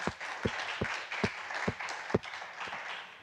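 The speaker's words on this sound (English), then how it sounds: "You are all getting a lot of round of applause" A conference audience at a livestreamed business forum in Rome claps steadily, a moderate, fairly distant patter of many hands with a few sharp individual claps standing out.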